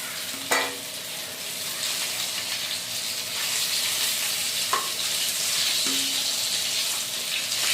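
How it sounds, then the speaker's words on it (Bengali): Pieces of katla fish fry in hot oil for a Bengali doi katla dish, a continuous loud sizzle with a few sharp clinks of a spatula against the pan and no talking. "এখন মাছগুলো ভালো করে একবার লাল লাল করে ভেজে নিব"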